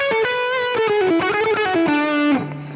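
Distorted electric guitar playing a quick descending single-note phrase that halts abruptly on a sustained low note, loud and close, with no talking.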